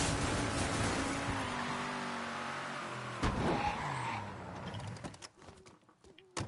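A muscle car's engine in the Mafia 3 video game revs loudly with rising and falling pitch as it drives, then eases off and fades amid scattered thumps and tire noise.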